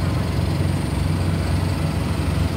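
A semi truck engine idles steadily nearby during a pre-trip inspection of the engine compartment, a constant low rumble with a rough, throbbing texture and no pauses.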